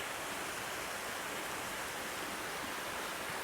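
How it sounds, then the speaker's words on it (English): Waterfall beside an old sunken pack horse bridge on an eroded stream, a steady, full rushing roar of falling water that stays constant throughout, with no voices. "But nonetheless, we have a waterfall."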